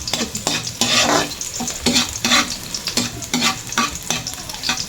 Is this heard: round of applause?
no